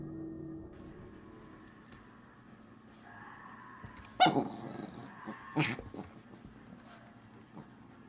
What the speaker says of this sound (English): we see two dogs playing with each other